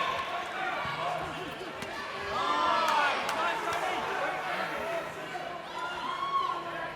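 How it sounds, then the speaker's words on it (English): Stadium crowd at a kickboxing fight at Eventfinda Stadium roars in a steady, swelling wash of noise, rising louder midway, with a commentator talking over it. "This crowd starting to find their voice at Eventfinda Stadium"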